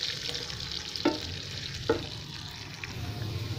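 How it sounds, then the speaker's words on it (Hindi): Finely chopped medium onion frying in a pan for white daal mash, a soft continuous sizzle with a couple of sharp stirring clicks, fairly quiet and heard alone. "प्याज को हमने गोल्डन ब्राउन होने तक पकाना है।"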